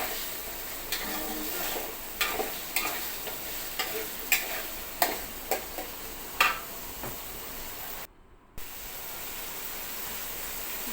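Papaya and potato pieces sautéing in a pan for a raw jackfruit vegetable dish, a steady low sizzle with occasional sharp stirring clicks and scrapes, and a brief dropout near the end.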